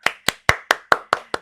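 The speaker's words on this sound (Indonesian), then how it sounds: "Tepuk tangan buat kita semuanya." Seven sharp, evenly spaced claps ring out one after another over about a second and a half, close and distinct with no other sound between them.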